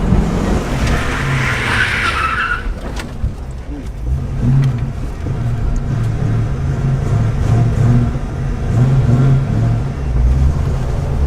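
A car drifting at a drift event, opening with a brief tyre squeal, then a loud engine roaring and revving in surges as the car slides, with a continuous low rumble throughout.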